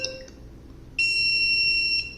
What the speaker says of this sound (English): Starting to beep.